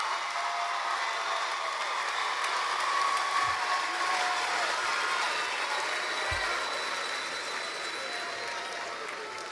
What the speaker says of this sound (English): give all of our new master's degree recipients a round of applause